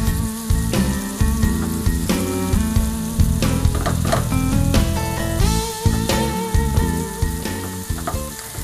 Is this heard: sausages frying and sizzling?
yes